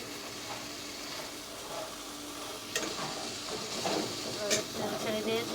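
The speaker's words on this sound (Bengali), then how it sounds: "শুটকিটা ভুনা হচ্ছে, অলরেডি তেল ছেড়ে দিয়েছে" Dried fish (shutki) sizzles in hot oil as it is sautéed, a steady hiss and crackle, with a few sharper stirring scrapes partway through.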